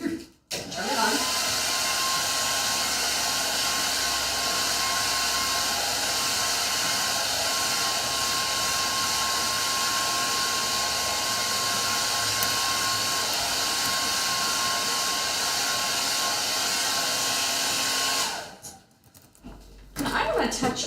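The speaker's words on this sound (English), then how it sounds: "I'm going to go ahead and hit this with the dryer." A handheld dryer blows on freshly stenciled paint, a steady close whooshing hum that runs for about eighteen seconds before switching off, with a voice speaking faintly beneath it.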